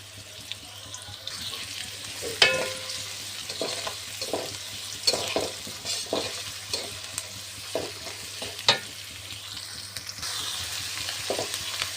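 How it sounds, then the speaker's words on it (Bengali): Chopped onions fry in oil in a kadai with peppercorns, cardamom, cinnamon and bay leaves, a soft sizzle under a spatula that scrapes and knocks against the pan in an irregular rhythm. "কড়াইতে তেল দিয়ে পেঁয়াজ কুচি দিয়েছি তার ভিতরে গোলমরিচ এলাচ দারচিনি দুটো তেজপাতা দুই ভাগ করে দিয়েছি"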